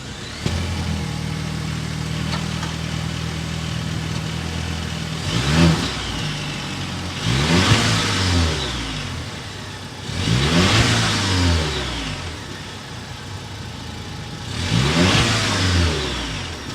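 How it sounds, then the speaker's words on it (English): A 2023 Volvo V90 Cross Country with a 2.0-liter turbocharged engine starts at idle, then gives four distinct throttle blips, each exhaust rev rising and falling sharply, close and loud. "start it up so you can hear that exhaust note"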